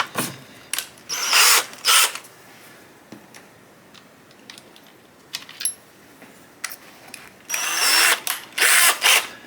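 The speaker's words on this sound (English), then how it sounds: "I've just got a 3mm drill in here now" An electric drill whirs in several short bursts, drilling 3mm holes in HIPS plastic, loud and close, with quiet pauses and faint clicks in between.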